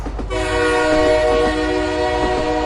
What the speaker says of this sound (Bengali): ততক্ষণে সেই ট্রেন একেবারে আমার সামনে এসে উপস্থিত হয়েছে